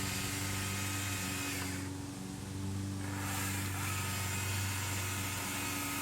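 A chainsaw works a wood carving of a bear set in a hollow, its edge lightly scraping to round the face, giving a steady, close, continuous engine drone with a brief dip in the middle.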